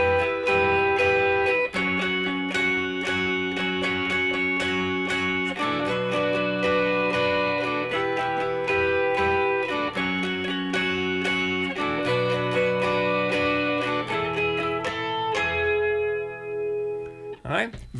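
Guitar plays the bridge of a song during a lesson, with sustained, ringing strummed chords in a steady rhythm, close and fairly loud, before the final chord fades out.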